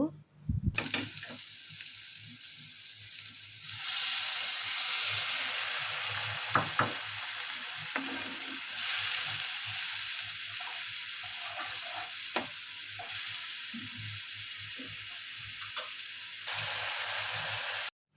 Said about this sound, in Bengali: সব মশলাগুলোকে একসাথে করে ভালো মতো কষিয়ে নিব